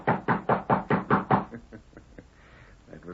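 A sharp, loud series of seven rapid raps on a ranch house door, evenly spaced, followed by quieter scattered knocks and a soft rustle, with no talk.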